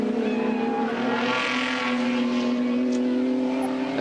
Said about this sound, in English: Good brakes on these Commodores, and Peter not afraid to use them